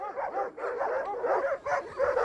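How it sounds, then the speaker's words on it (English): Aggressive shepherds' guard dogs barking in a rapid series of sharp, close, loud barks and yelps, several bursts in quick succession with brief gaps between them. "The shepherds protect their flocks with dogs like these. They're pretty aggressive"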